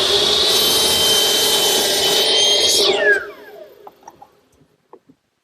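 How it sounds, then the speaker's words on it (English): Power miter saw cuts salvage timber to length against a stop block, a loud whining blade ending in a falling spin-down and then a few light wooden knocks. "Here at my miter box, I'm squaring up one end, sliding it down to my stop block,"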